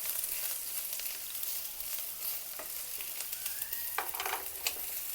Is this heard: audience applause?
no